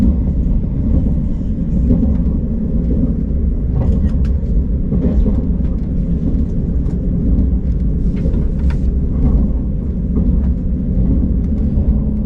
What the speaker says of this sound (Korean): 곧이어 열차는 경부고속선과 멀어진 뒤 본격적인 경부선 질주를 시작합니다